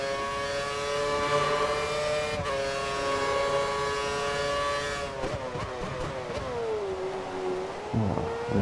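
A Formula 1 car in F1 2013, racing in the wet at Singapore, gives a steady high engine whine that holds its pitch, then dips and swoops through gear changes near the end, with no voices.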